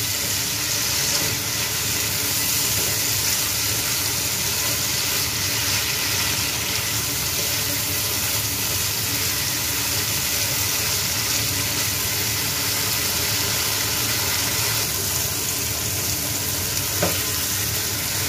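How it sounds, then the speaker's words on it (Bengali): Tangra fish go into a simmering spice paste in a village-style kitchen and fry there with brinjal, a loud close crackling sizzle that runs steadily throughout with occasional stirring and no talking. "এবার আমি এক এক করে মাছগুলো দিয়ে দিব। মাছগুলো দিয়ে একটু কষিয়ে নেব।"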